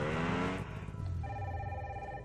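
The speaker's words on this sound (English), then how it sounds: "Oh, my phone's ringing." A phone rings in the Nancy Drew: Sea of Darkness video game, a steady electronic ring tone that follows a louder burst of game sound, with no talking.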